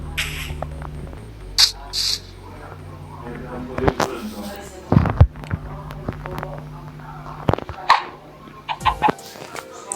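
Chickens clucking and squawking in the video game Minecraft, short bursts scattered over a game soundscape with tonal background hum.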